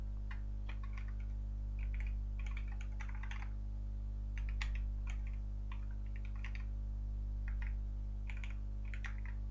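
Someone types on a computer keyboard in short, irregular bursts of clicks over a loud, steady electrical hum, with pauses between flurries. Nobody speaks.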